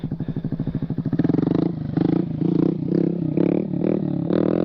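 A Honda Grom motorcycle engine revs loudly and close during a stand-up wheelie stunt, rising from a choppy idle into sustained, wavering throttle blips.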